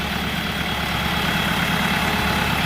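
A Shifeng 404 tractor's four-cylinder YTO diesel engine idles steadily nearby, a constant low rumble with an even, unchanging throb for the whole few seconds.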